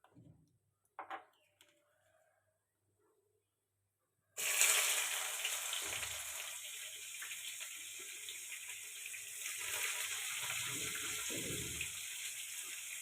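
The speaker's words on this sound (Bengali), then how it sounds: "এবার এর মধ্যে পেঁয়াজ কুচি দেবো।" Chopped onions drop into hot oil with whole garam masala in a frying pan, then a steady, close, loud sizzle holds for about eight seconds after a quiet start with a few small clinks.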